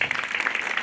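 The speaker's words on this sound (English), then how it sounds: "Welcome, Walimu, by a round of applause." Brief burst of dense audience applause welcoming teachers at a girls' high school ceremony, steady and close throughout.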